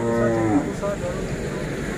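Hallikar male calves moo, one loud, close, drawn-out call followed by a shorter, fainter lowing over low background murmur.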